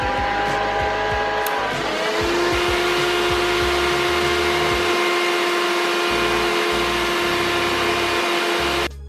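A Bosch Readyy'y cordless stick vacuum cleaner switches on and runs loud and steady at close range, its motor whine climbing briefly at the start before settling into a constant high-pitched drone that cuts off at the very end.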